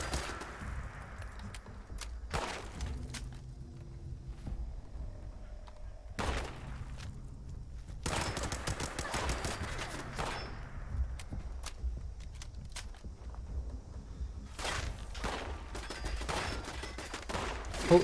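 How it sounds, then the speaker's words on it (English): Automated turret in Fallout 76 firing in repeated bursts of rapid gunshots, loud and close, with short pauses between volleys and a final burst near the end. "Oh, it's the turret."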